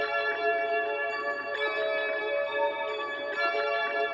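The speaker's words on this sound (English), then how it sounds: "there's a bell as well, and this pretty much plays a similar kind of lead as the synth" A bell-like lead in a producer's beat rings out in sustained, shimmering tones over a soft low bass layer, steady and fairly loud throughout with no voices.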